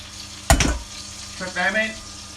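Infused butter and oil hit a hot steak pan still holding the meat juices, letting out a sudden loud sizzle burst that fades, then a softer frying crackle returns with a voice speaking over it.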